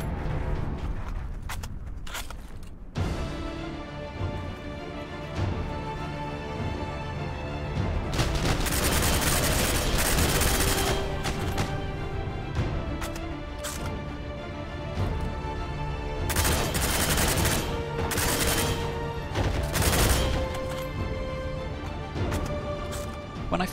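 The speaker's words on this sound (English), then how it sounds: "The BAR has about twice the rate of fire of its real-life counterpart, meaning that fully automatic fire is very difficult." M1918 BAR automatic rifle fire in the Heroes & Generals shooter game, with loud rapid bursts of fast automatic gunfire separated by short pauses, some booming impacts and background battle noise.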